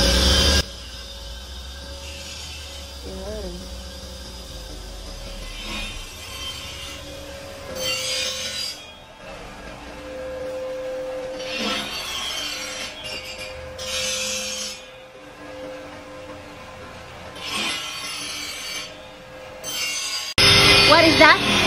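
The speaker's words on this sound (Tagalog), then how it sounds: "This is a bed grinder. Yeah. For the it sharpens the chisel blade. I mean, the chipper blades." A bed grinder in a workshop sharpens chipper blades, giving a steady abrasive grinding hum with rasping surges that swell and fade as the grinding head passes along the blade, loud and close throughout.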